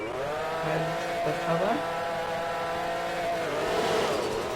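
Supercar in the video game Taxi Boss cruising at speed, its engine holding a steady drone with slight pitch shifts and a brief rev, close and continuous under a short spoken phrase.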